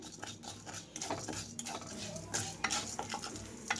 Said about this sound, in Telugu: లో ఫ్లేమ్లో ఉంచి మాత్రమే వేయించుకుంటున్నాను ఇక్కడ నేను